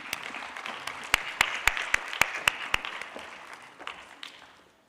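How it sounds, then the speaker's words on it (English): Conference audience at the T20 South Africa Summit applauds as a speaker comes to the stage, a soft bed of clapping punctuated by a run of crisp, regular claps from one nearby pair of hands, then fading out gradually. "Round of applause as we welcome her to the stage"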